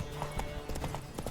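A horse gallops in The Witcher 3 video game, its hooves striking in quick, steady clip-clop beats. The hoofbeats sound close and clear against a dense background wash.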